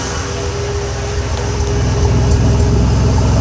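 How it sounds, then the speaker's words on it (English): A carbureted Ford 300 inline-six in a truck with a 2.5-inch exhaust runs steadily close by, giving a low, evenly pulsing, tractor-like chug throughout. "I have to admit, it sounds like a tractor."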